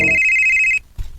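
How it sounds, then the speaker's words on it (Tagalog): An incoming call rings on a telephone: one loud, shrill electronic ring tone holds steady and then cuts off, followed by a short soft bump and quiet. "Nanawag na sa Gia."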